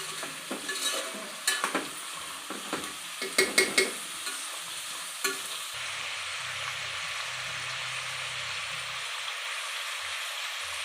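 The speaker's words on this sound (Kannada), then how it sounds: "ಸ್ವಲ್ಪ ಎಣ್ಣೆಯಲ್ಲಿ ಕ್ರಂಚಿಯಾಗಿ ಫ್ರೈ ಮಾಡ್ಕೋಬೇಕು ಅಷ್ಟೇ." Mixed vegetables frying crisp in oil for veg biryani, stirred with a few clattering scrapes early on, then settling into a steady, even hiss of sizzling oil with no talk.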